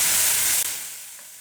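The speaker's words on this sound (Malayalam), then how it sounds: "നമുക്ക് ചിക്കനൊന്ന് ഇടയ്ക്കൊന്ന് ഇളക്കി കൊടുക്കണം കേട്ടോ." Chicken cooking in a pan, a loud close hiss of sizzling that dips briefly and then slowly fades, with no clear stirring strokes.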